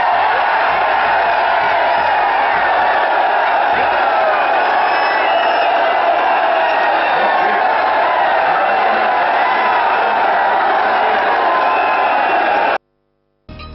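A large crowd at a political rally in Gohana keeps up a dense, continuous roar of hooting and shouting, loud and sustained before cutting off abruptly.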